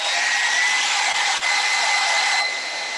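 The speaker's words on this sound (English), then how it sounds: "I'm going to hit it with a hairdryer real quick." A hair dryer blows steadily on wet acrylic paint on a canvas, a constant loud whooshing whine that dips briefly once and eases slightly near the end, with no voices.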